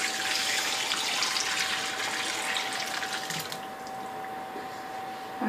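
Chicken broth (yakhni) for a white chicken pulao is poured through a strainer into a bowl, making a continuous close gushing splash over a steady background hum.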